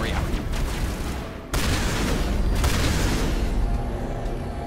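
Dense bursts of enemy gunfire and booming shots in Mass Effect, loud and continuous with a sharp cut and renewed volleys, chaotic combat noise throughout.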